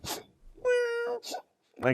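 A cat gives one drawn-out, tonal crying meow, close and clear, between short bursts of other voice-like sounds.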